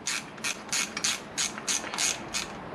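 A ratchet tightens the bolts of a Tokico six-piston brake caliper during reassembly. About eight quick, bright clicking bursts come close and evenly spaced, with no talk over them.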